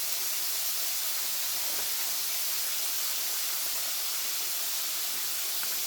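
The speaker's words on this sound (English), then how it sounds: "So we can stir fry our squash and onion." Butternut squash and onion sizzle in hot olive oil in a pan, a soft, even, continuous hiss heard fairly faintly with no talking.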